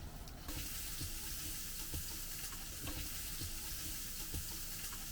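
Onion fries in a pan inside a motorhome kitchen with a dense, steady sizzle and occasional soft clicks of stirring, close and constant throughout without talk.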